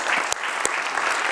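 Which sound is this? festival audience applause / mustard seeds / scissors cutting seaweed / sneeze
festival audience applause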